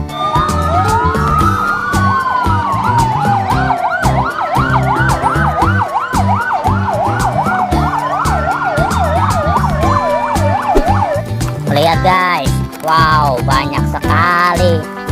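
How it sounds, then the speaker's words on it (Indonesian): A loud electronic toy fire truck siren wails in rising and falling sweeps, then switches to quicker yelping bursts, close and continuous over a cheerful tune. "Ini adalah mainan damkar guys."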